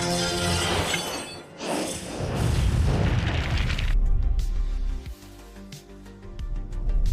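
A cartoon robot self-destructs in a loud explosion: a sharp shattering crash, then deep rumbling booms and scattered debris. A brief lull follows before another heavy blast near the end.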